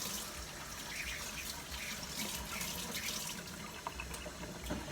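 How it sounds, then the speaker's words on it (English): Steady running water from a tap as hands are washed at a kitchen sink, a continuous broadband splash with no talking. "I'm gonna wash my hands again, guys."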